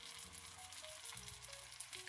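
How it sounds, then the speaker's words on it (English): Chicken cutlets sizzling in a hot pan, a steady close crackle and hiss of frying oil with no voices over it. "Look at that chicken sizzle."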